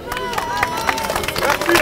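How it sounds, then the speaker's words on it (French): Gym crowd at a powerlifting challenge applauds and cheers, with quick claps mixed with excited shouting voices in a lively, close, continuous burst. "Je veux que tout le monde l'applaudisse!"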